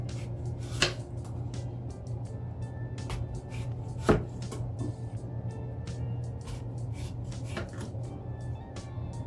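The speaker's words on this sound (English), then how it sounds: "to chop up some apples" Knife chopping apples for a sugar-free apple cranberry dump cake, with a couple of sharp cuts against a cutting board over a steady low kitchen hum, close and fairly quiet.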